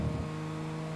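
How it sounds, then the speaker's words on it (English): A rally car engine in Gran Turismo 5 holds a steady, buzzing drone at a constant pitch for a brief moment, with no other sounds. "Sounds kind of like the Fiesta Junior WRC."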